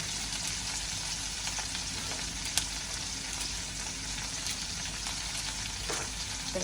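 Curry leaves, green chillies and rampe temper in hot oil, giving a dense, continuous sizzle and crackle with a single brief pop, with no speech.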